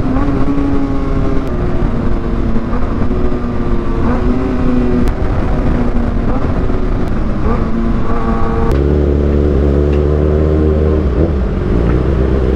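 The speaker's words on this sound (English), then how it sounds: "I love downshifting on this loud exhaust" Kawasaki ZX6R motorcycle fitted with an Austin Racing GP1R exhaust, heard while riding: loud, close engine roar with shifting pitch as it revs and downshifts, ending in a deep burbling drone.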